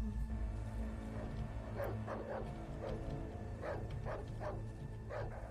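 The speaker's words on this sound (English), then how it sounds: "it sounds like more than one dog." Several dogs barking in the horror game Darkwood, repeated bursts of barks and yips at middle distance over a steady low ambient rumble, no talk.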